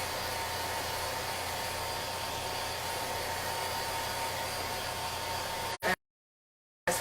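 A heat tool blows hot air to dry Chalk Couture Chalkalogy ink: a steady, loud, hissing whoosh runs close and constant, cuts out abruptly near the end, then starts up again.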